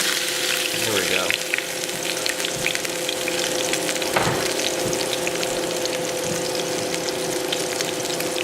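Venison frying in oil on a wood stove, a continuous crackling sizzle with scattered pops and a few brief scraping clatters, loud and close with no talk.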